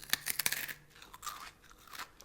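Freeze-dried astronaut food is crunched and chewed close to the mouth, several sharp crisp bites in a quick cluster followed by softer intermittent crunches.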